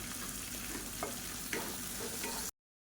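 Onions and drumstick leaves sautéing in a pan for a South Indian kuzhambu make a steady, close sizzle with light stirring scrapes, then the sound cuts off abruptly.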